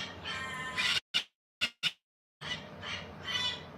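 A pet parrot lets out harsh, loud squawks, a long raspy call, then three short clipped bursts separated by silence, and then more grating squawking.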